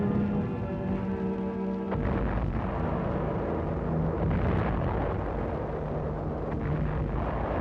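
An ammunition dump hit by mortar fire explodes in a wartime battle on Angaur, a continuous heavy rumble of blasts and roaring fire with a deep low-end boom throughout, loud and unbroken.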